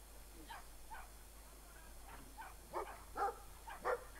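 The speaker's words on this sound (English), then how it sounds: "That's a big dog." A large dog barks in the video game Brothers: A Tale of Two Sons, a series of separate woofs that start faint and grow louder and closer, with the last few barks strongest.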